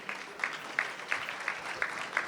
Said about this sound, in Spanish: Fuerte el aplauso para Juan Martín.